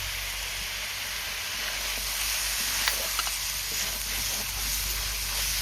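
Mutton frying in a pan as turmeric, Kashmiri chilli, mutton masala, pepper and red chilli powder go in, a steady even sizzle and hiss with a few faint stirring clicks, no voices.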